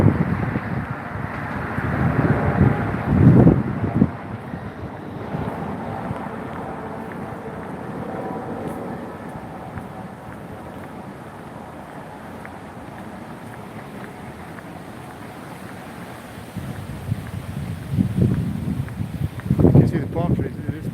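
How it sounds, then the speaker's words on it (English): Gusty wind on the Las Vegas Strip buffets the microphone with a low, roaring rumble that swells in strong bursts near the start and end, easing in between. "It is pretty windy."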